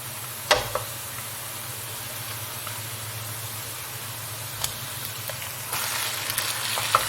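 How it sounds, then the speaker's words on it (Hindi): Chicken frying in a pan with browned onion and garlic, a steady low sizzle with a few sharp clinks of a spoon or lid, heard alone and fairly quiet. "चिकन हमारा फ्राई हो रहा है, इसको आपने अच्छी तरह फ्राई करना है"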